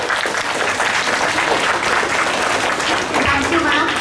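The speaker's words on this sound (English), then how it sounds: "Let's give them a big round of applause" A school assembly audience gives the children a loud, dense round of applause, with steady clapping throughout and voices murmuring underneath.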